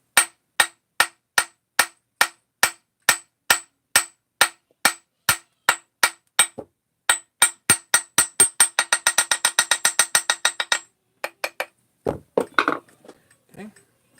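A hammer strikes metal over and over in a steady rhythm, the blows speeding into a rapid flurry before a short pause and a few final hits, loud and close, with a voice heard briefly near the end.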